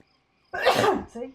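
One sharp, loud sneeze bursts out close to the microphone after a moment of quiet, followed by a brief voiced exhale or murmur.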